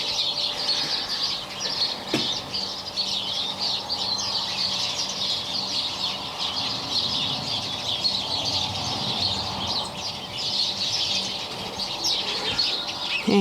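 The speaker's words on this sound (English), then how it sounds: "Good morning, chickies." Chickens in a backyard coop in the morning, with steady chirps and soft bird calls running throughout at moderate distance and a faint brief flutter early on.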